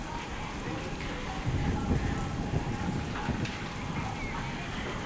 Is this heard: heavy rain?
yes